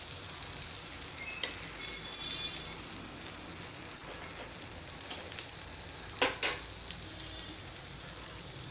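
Suji (semolina) uttapam fries in oil on a pan over a medium gas flame, giving a steady close sizzle with a few sharper crackles and no voices.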